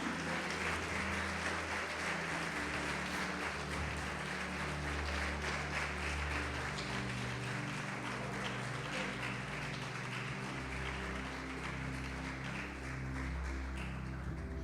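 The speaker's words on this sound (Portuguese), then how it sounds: "Pode aplaudir o Senhor e glorificar." Worshippers in a church applaud together, dense continuous clapping for about fifteen seconds layered over sustained band or keyboard chords.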